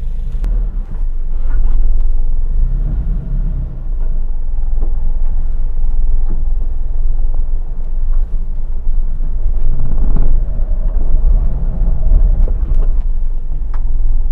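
Toyota Kijang Super car driving along a rough, damaged road, with a steady low engine and road rumble heard continuously from inside the vehicle.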